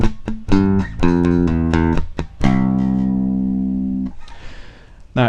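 A bass guitar plays the second bar of a lick, a run of distinct plucked notes with a long sustained note ringing out near the end, clear and close with no voices.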